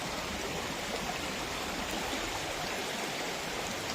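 Water flows steadily in a continuous rushing wash, like a stream nearby, with no voices.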